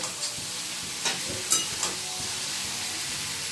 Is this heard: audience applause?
no